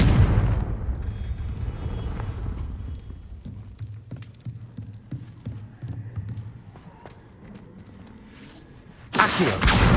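Fiery Confringo spell blasts from Hogwarts Legacy burst out as a string of sharp booming impacts and crackles over rumbling game ambience, ending in a loud roaring blast.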